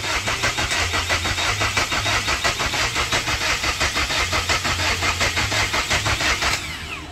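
The starter motor cranks a Chevrolet Captiva diesel that has sat unused for a year and a half, a steady rhythmic churning that runs for several seconds without catching and then cuts off.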